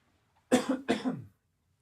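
A man coughs twice in quick succession, close and loud, with a short rough tail after the second cough and silence around it.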